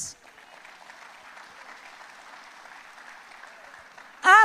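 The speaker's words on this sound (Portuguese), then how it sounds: "aplauda Jesus" A church congregation applauds during a worship service, a faint, steady wash of clapping that sounds distant and holds evenly before a voice cuts in loudly at the end.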